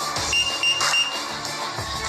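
A mask-detection alarm sounds from a facial recognition access terminal: a steady electronic tone with repeating pulses, heard on its own with no talking.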